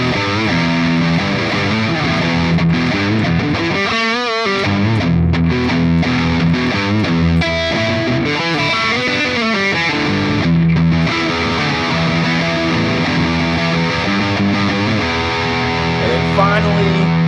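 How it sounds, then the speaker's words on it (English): Electric guitar played through a Line 6 Pod Express on its heavy distortion setting with no boost, a dense, saturated chugging riff with sustained chords and brief pauses, loud and continuous with no talking. "Here's the heavy by itself."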